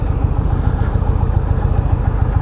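A 2019 Indian Chieftain Limited motorcycle engine idling nearby, a steady low rhythmic V-twin thump with a slight mechanical clatter, continuous and even throughout without talk.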